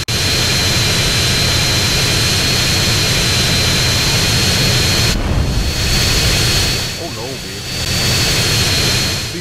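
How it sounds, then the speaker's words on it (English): An airplane's jet engine in GTA San Andreas drones loud and constant, a thick roar with a high whine on top that briefly dips and swells, while someone talks over it. "this plane ain't getting no higher"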